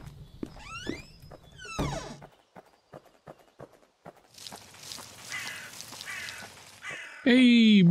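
Crow cawing in the video game Pumpkin Panic, a few harsh repeated caws early on, mixed with game footsteps and ambience while a person talks over it.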